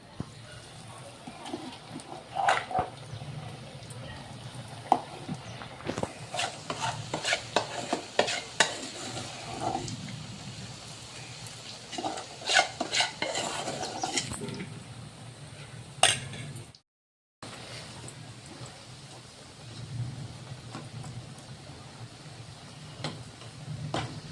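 Peanuts fry in oil while a spoon or whisk scrapes and stirs them around the pan, giving a quiet sizzle under irregular clinks and scraping strokes, with a short silent gap late on.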